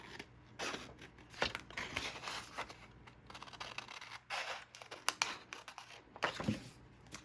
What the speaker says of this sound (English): I'm actually gonna cut this little flag out best I can.